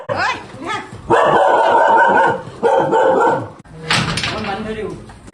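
A house dog barks loudly and repeatedly at close range in sustained bursts, mixed with people talking.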